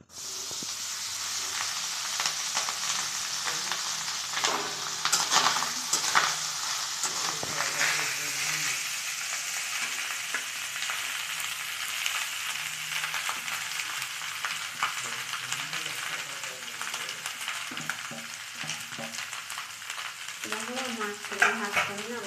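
Vegetable fried rice with ghee, cashews, raisins, cinnamon and bay leaf sizzles quietly in a pan as it is stirred, a steady hiss broken by soft scraping, with voices now and then in the background.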